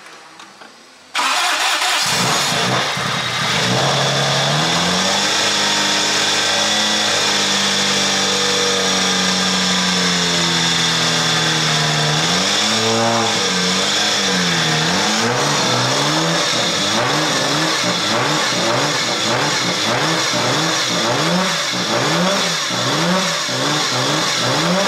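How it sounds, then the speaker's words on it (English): A drift car's engine cranks and fires on its first start after being rebuilt, then idles and is revved repeatedly with throttle blips in a steady rising-and-falling rhythm, loud and close with no talking. "First start? Jump on the throttle, maybe."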